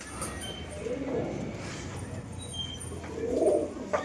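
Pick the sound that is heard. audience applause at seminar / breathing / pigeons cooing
pigeons cooing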